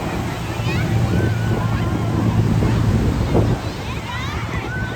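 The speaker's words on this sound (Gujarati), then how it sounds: "આ બોટ છે." A boat moves over the sea near Bet Dwarka. Steady rushing water and heavy wind buffeting fill the whole stretch, and faint voices blur underneath.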